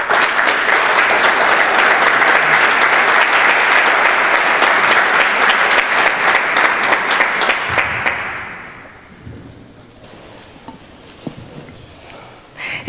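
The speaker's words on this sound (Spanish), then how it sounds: "así que le recibimos por favor con un fuerte aplauso." Loud, sustained applause from a conference audience, dense clapping that gradually fades out, followed by near quiet with a few stray claps.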